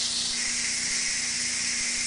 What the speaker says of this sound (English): Now we're going to release the rest of the steam.